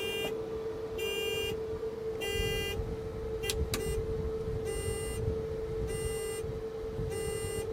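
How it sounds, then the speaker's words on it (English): An electric pedal car's blinker, switched on by a rocker on the steering tiller, sends out a steady, evenly paced beep about once per second, with a tonal buzz beneath and a couple of brief clicks midway. "This rocker switch on the back of the steering tiller is how you activate the stupid sounding blinkers"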